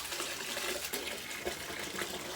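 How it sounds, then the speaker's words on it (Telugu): Tap water runs over a Redmi Smart Band held beneath it, a steady, close, broadband rush of flowing and splashing water that holds level throughout with no talk. "ట్యాప్ కింద పెట్టి చూద్దాం"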